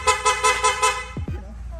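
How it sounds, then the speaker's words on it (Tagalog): A loud aftermarket horn on a Honda Winner X motorcycle blares in five quick, evenly spaced honks, followed by a couple of brief clicks and a low hum. "Ang busina, loud horn"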